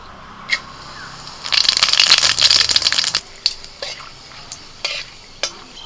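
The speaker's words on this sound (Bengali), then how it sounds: "এবার ওই তেলের মধ্যে আমি ফোড়নে দিচ্ছি তেজপাতা এলাচ দারচিনি লবঙ্গ জয়িত্রী আর একটুখানি সাজিরে" Whole spices, bay leaf, cardamom, cinnamon, cloves, mace and caraway seeds, hit hot oil with a sharp burst of sizzling and crackling for about two seconds, then settle into scattered clinks and faint pops, close and alone.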